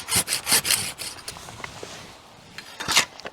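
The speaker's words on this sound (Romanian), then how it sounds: "îl scoatem complet de la inel cu ferăstrăul de data aceasta" A hand saw rasps through a dead, dry peach tree stub during pruning, cutting it flush at the branch collar in a series of close, uneven scraping strokes that trail off into quieter rubbing before a last loud burst.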